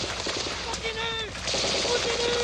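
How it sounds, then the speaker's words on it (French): Automatic gunfire crackles in rapid bursts throughout a war-film scene, loud and continuous, mixed with shouted voices and a brief whistling tone. "Il nous tire dessus!"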